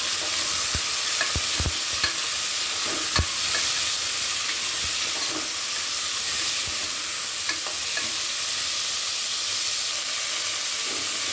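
Washed field beans (avarekalu) sizzle and hiss loudly in a hot pan, a dense, steady frying sound with a few scattered clicks and taps from stirring.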